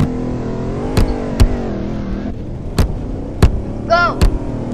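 Engine of a police car driving in the Roblox video game, a steady low hum with a few short revving bursts, heard alongside sharp game effect sounds and a brief whistle-like sweep.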